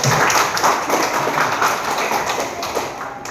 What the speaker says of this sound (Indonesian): Mari kita aplaus untuk semua kelompok